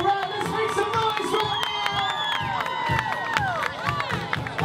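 A Memorial Day running race crowd on Staten Island cheering loudly, with overlapping shouts, whoops and high excited voices plus scattered clapping, a busy, close wall of noise.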